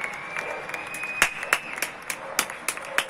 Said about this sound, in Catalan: Els aplaudiments se senten a gairebé tots els carrers